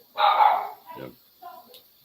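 Small dogs, Chiweenies and a Chihuahua, give a loud, sharp burst of barking up close, followed by two shorter, softer yips.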